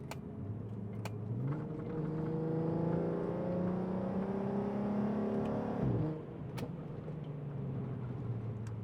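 A Skoda Superb with a 3.6-litre VR6 engine revs repeatedly, the pitch climbing and holding through several rising sweeps before dropping sharply, then settling back to a steady idle, loud and close with no talk.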